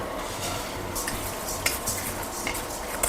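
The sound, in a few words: mung beans added to the pan and stirred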